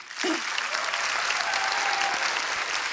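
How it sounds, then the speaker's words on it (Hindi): A studio audience at a comedy talk show breaks into loud, sustained applause that starts abruptly and holds steady to the end. "इनके लिए जोरदार तालियां"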